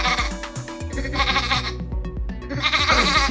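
A person mimics a goat's bleat with a wavering, nasal voice, several shaky bleats running together loudly and close, over a steady musical backing.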